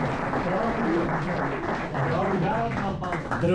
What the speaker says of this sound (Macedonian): Еден спонтан аплауз ве замолувам за едни од нашите најверни фанови